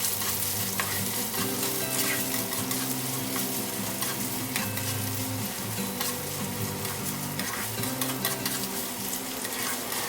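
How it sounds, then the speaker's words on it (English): Chopped onion frying in a pan for a Bengali snakehead fish and potato curry gives a loud, dense, unbroken sizzle up close, with faint stirring and a steady low hum underneath. "fry them until they are little caramelized"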